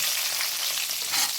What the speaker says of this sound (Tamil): கலர் சேஞ்ச் ஆகிறதுக்கு முன்னே நம்ம கடுகு போட்டுடலாம்